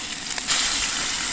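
Continuous close sizzle and hiss of chicken frying in a hot cast iron skillet on a camp cookstove, with a few crackling pops, no voices.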